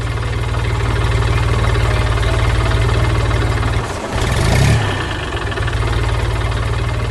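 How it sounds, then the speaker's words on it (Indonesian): In an animation, a loud motorized saw drones steadily and continuously, with a brief dip and surge in the engine as it bites into wood in the middle of bushes. "Gergaji mulai berputar, menghancurkan kayu yang kuat, menghasilkan suara menggelegar"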